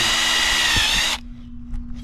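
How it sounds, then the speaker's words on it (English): A power drill whines loudly at high speed for about a second boring into a plastic bucket, then stops abruptly, leaving a low hum and faint clicks. "I'm just going to drill a hole to the bottom of the bucket"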